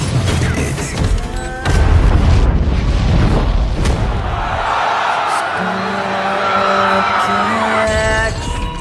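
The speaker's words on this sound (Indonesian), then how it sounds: "senjata kontrol jarak jauh yang mengakibatkan ledakan" A deep booming blast from a remote-controlled weapon in the film Jawan, followed by rumbling debris and crowd noise, with tonal music-like sounds continuing after.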